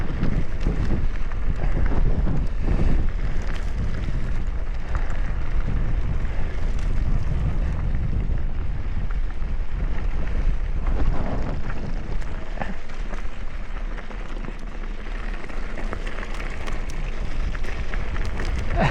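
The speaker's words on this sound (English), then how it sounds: "you could probably hear the wind" Strong wind buffets and roars against the microphone on a mountain bike trail, a constant gusty rumble with no voices.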